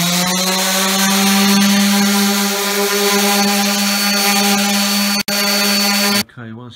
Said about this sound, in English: started sanding it smooth